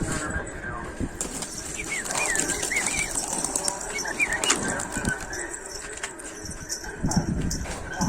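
Pigeons flap their wings in bursts of rustling flutter, with soft bird calls and scattered movement noise nearby.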